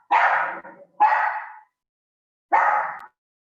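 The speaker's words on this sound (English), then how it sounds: "Sorry, that's my dog." A pet dog barks three times, loud and close, two barks in quick succession and then a third after a pause, each a sharp yelp trailing off.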